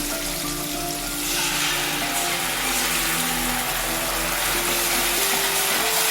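A paste of onion, garlic, ginger and chili sizzles loudly as it hits hot oil in a pan, a dense steady hiss that continues close up without pause.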